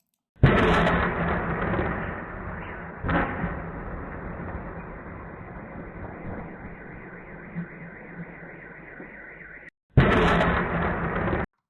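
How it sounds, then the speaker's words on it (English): Heavy booming blasts with long rumbling tails from drone strikes on an oil refinery in Ryazan, Russia: one at the start, another a few seconds later, and a third near the end, sounding distant and powerful. "massive explosion we can hear at the very beginning of this video"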